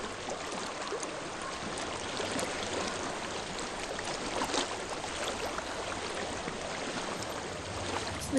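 A flowing stream in the game Hellblade: a steady, broad rush of water runs continuously at an even level from start to end, close and fairly loud, with no talking over it.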